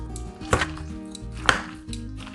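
Eggplant salad with salt, black pepper and vinegar being tossed in a bowl, two sharp clacking knocks of utensils against the dish amid soft shuffling sounds, close and without speech.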